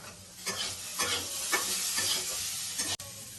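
Chopped green chilli and a small chopped tomato fry in a pan for stuffed pointed gourd, a close, steady sizzle broken by regular scraping stirs with no talking.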